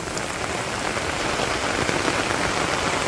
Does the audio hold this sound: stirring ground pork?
no